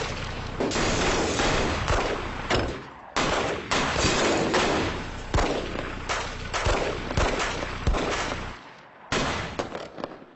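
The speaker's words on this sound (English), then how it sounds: "Shots fired. Shots in the building." Gunfire erupts inside a school building in a rapid string of loud, sharp shots, some single and some bunched, echoing off hard walls for about ten seconds with a brief lull near the end.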